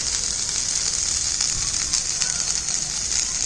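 Kenya thyme drops into a hot pan of sautéing vegetables, a steady loud hissing sizzle with light crackles, close and continuous throughout.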